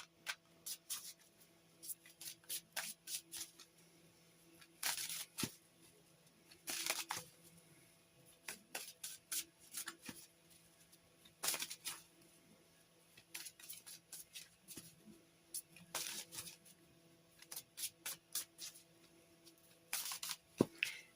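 Tarot cards shuffled by hand in a quiet room: repeated short riffling bursts come in an uneven rhythm, close and soft, with brief pauses between them and no speech.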